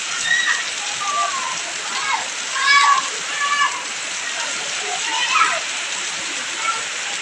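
Steady hiss of rain falling nearby, with someone talking over it.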